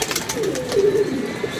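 A pigeon gives a short, rolling coo near the middle of a brief stretch, fairly close, over a soft hiss of ambient noise.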